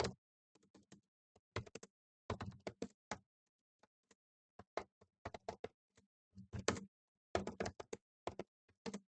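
Keys on a computer keyboard clatter in quick bursts of typing and tapping during computerised accounting data entry, with short pauses between runs of keystrokes, fairly close and with no talk over them.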